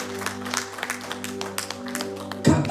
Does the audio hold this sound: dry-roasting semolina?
no